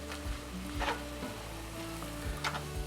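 Cornbread dressing ingredients stirred together in a pan over the flame, a steady hiss and sizzle with scraping spoon strokes against the pan and some low hum, fairly quiet, with no voices.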